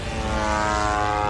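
An attack drone flying over Moscow: a steady, loud buzzing engine drone with a sharp propeller whine, holding constant throughout.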